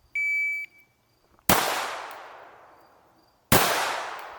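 Live-fire pistol shots at a firearms training range: two sharp, loud bangs about two seconds apart, each with a long decaying echo. A brief electronic beep comes just before them, and the reset click is not clearly apparent.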